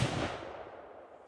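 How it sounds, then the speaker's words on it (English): A single loud gunshot from a .50-110 lever-action rifle striking a Level IV armor plate, a sharp blast at the very start that quickly decays into a fading rumble. "I'm gonna try to shoot it right in that same area"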